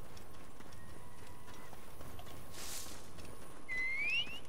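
Horse hooves clip-clop in the video game Assassin's Creed Origins, a soft steady trotting under a quiet ambient bed, ending with a brief bright whistle-like whinny near the close.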